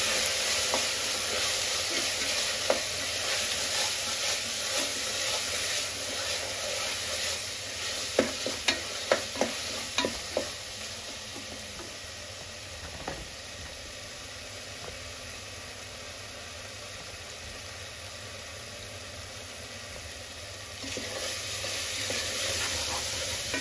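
Tomato curry with garam masala and coriander frying in a pan, a steady close hiss of sizzling broken by a run of clacking spoon stirs against the pan partway through.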